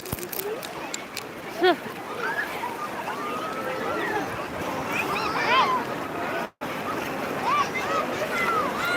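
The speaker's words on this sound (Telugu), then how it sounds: "అలలు తన్నేస్తున్నాయి నా ఫోన్ మీదకి మీదకి వాటర్ వస్తుంది" Ocean waves rush and surge continuously nearby at the seashore beside Murudeshwar temple, with wind noise buffeting the microphone, while voices talk and exclaim over the water.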